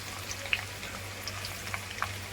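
Oil heats in a pan for Hakka noodles, a faint, quiet sizzle with a low hum and a few scattered small pops and ticks.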